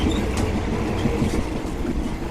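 A train running on the Burma railway in Thailand, heard as a loud continuous rumble of wheels on track with rattling carriages and faint rail clatter, close by and with no voices.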